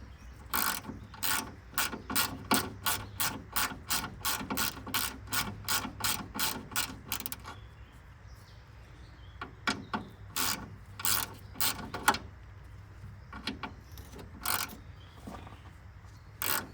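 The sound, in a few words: ratchet wrench turning a bolt on a 1966 Chrysler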